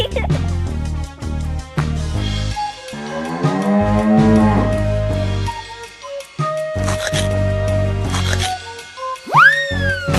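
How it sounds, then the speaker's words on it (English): A cow moos loudly in a long drawn-out call amid other animal sounds and music from a children's animated animal-names cartoon, with bouncy sound effects and a rising whoop near the end. "Cow,"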